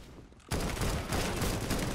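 Gunfire in Counter-Strike: Global Offensive, a dense loud burst of rapid shots that starts abruptly after a short quiet moment and continues without a break.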